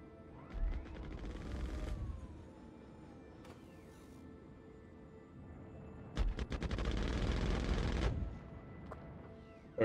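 Gimbaled ship cannon fires in the Star Citizen video game, with two loud sustained bursts of rapid gunfire over a constant low engine hum.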